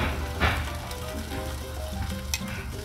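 NY strip steaks sizzle steadily on a Blackstone flat-top griddle, a soft continuous frying crackle with a few sharper pops and spits, moderately quiet and without talk.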